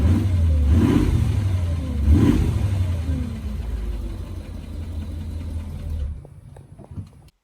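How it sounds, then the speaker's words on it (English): An Audi SQ8 TDI diesel engine runs with a deep, steady rumble, swelling twice in short revs before settling to a quieter idle and cutting off near the end. "but it definitely sounds a little like clicky, right? Like tick, tick, tick, tick, tick. It's a diesel."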